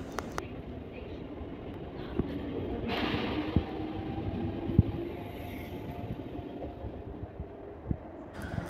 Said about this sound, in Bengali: ট্রেনটি ছেড়ে দিয়েছে, তার পরবর্তী স্টেশন দাসনগর।